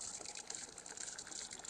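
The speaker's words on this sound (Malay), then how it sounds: "Air bocor." Water leaks in a Roblox horror game set in a motel, a steady rushing gush that runs without pause and stands alone with no talk.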